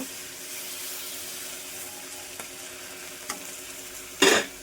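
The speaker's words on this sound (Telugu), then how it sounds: "ఒకసారి బాగా కలుపుకుందామండి" Boiled taro roots are stirred in a pan for an Andhra-style tamarind stew with jaggery, a soft, faint sizzle with a few light scrapes and one louder scrape near the end.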